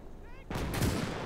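A high-explosive shell blast and artillery fire in the Gates of Hell: Ostfront Conquest war game, with one sudden broadband boom that sustains a loud rumbling roar after a brief quieter lead-in.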